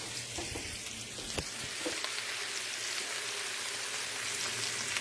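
Turkey wings browning in a hot pan give off a steady, close crackling sizzle with scattered pops and faint clinks, continuous throughout without talk.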